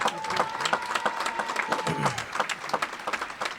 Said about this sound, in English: Come on and give another round of applause for Mr.